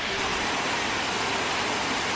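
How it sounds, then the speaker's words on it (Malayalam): A waterfall just beside a treetop cottage in Munnar pours as a dense, steady broadband rush, even and unbroken for a couple of seconds, with no voices. "നേരെ അപ്പുറത്തൊരു വെള്ളച്ചാട്ടം"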